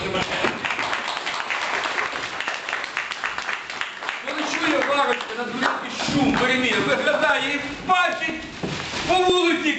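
An audience claps at a Ukrainian folk-tale storytelling, a crisp patter of hands in the opening seconds that carries on beneath a speaking voice for the rest of the stretch.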